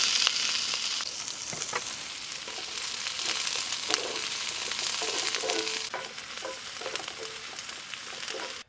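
Chopped onion, green chilli, carrot and peas frying in a pan on a camp stove in remote Ladakh, a steady close sizzle with occasional stirring clicks and scrapes, no voices.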